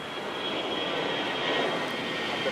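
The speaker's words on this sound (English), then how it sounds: "Is this a takeoff or is this a go around? Oh, wow. We have a go-around." An airliner going around at Manila's NAIA airport, heard as a steady, loud, broadband engine roar at a distance with no talking.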